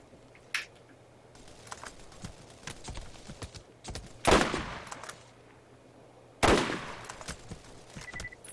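Enemy gunfire in Borderlands, heard as scattered distant shots and short bursts over low background hum, with two louder sharp bangs standing out midway and near the end.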